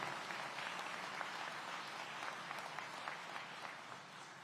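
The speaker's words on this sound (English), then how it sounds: "Another round of applause for APD on the job," Sustained applause from an audience at a city public safety address in Aurora, a dense steady wash of many hands clapping at even loudness throughout, no talking over it.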